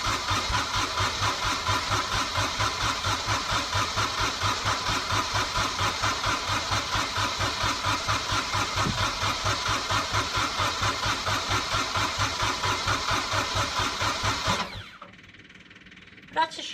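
A small Kubota diesel engine, started in 1-degree cold, chugs with a steady rapid rhythmic pulse, loud and close, then cuts out abruptly near the end, leaving near silence.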